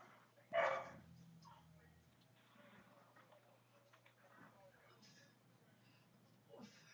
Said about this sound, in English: Shut your fucking dog up.